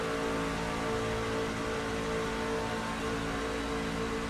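Onboard engine of a racing car in a sim racing game, a steady droning hum with noisy broadband wash throughout, loud and continuous with no talk.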